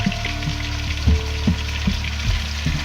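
Pieces of meat brown in hot oil at the bottom of a pot for a stew, hissing with a steady sizzle broken by soft pops and a few dull knocks.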